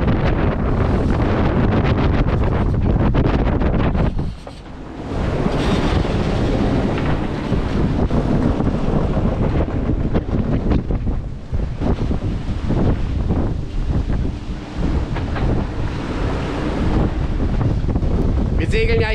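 Heavy wind roars across the microphone of a sailboat beating upwind in the Atlantic westerlies near 40 degrees north, with waves rushing against the hull in a loud, steady wash that dips only briefly.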